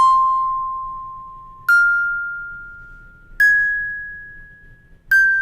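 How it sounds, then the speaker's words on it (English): Plucked bell one-shot melody from FL Studio, played dry without effects: four clear bell strikes spaced evenly, each ringing and fading, stepping up in pitch, alone with no voices. "I just kind of plucked it similar to that other bell that we had, but in going up the scale and back down the scale"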